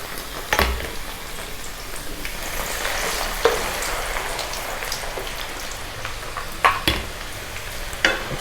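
Preserved radish (chai poh) frying in hot oil gives a steady, even sizzle and crackle, with a few sharper pops and spatters standing out above the bubbling; no voices.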